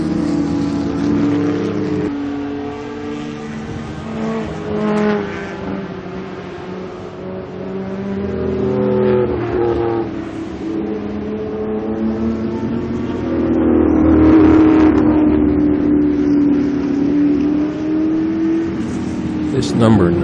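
Vintage race cars, among them a 1974 Porsche 911 and a 1972 Datsun 240Z, roar around the Lime Rock circuit, engines droning and revving continuously at moderate distance while a commentator talks over them.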